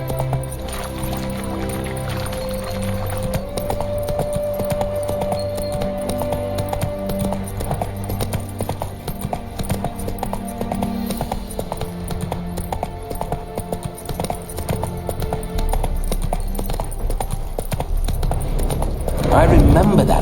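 Hooves of Roach, the horse in the video game The Witcher 3, clip-clop in a steady rhythmic trot beneath a long stretch of talk and background music, with a louder clatter toward the end.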